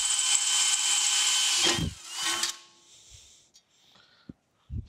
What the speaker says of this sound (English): We're just going to drill these out.